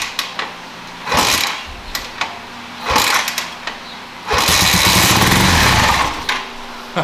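A 1981 Honda CM400A motorcycle being kick-started: several short bursts of cranking as the kick lever is worked, then the engine catches and runs for a couple of seconds before sputtering down, loud and close.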